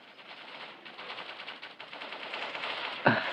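Gunfire in Bullet Angel: Xshot, a shooting video game, sounds as a dense, rapid automatic rattle that grows steadily louder and ends in a sharp, heavier burst.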